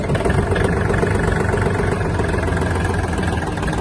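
A Japanese Kubota L1-185 mini tractor engine runs steadily at close range, a loud, even diesel rumble with constant vibration and no breaks.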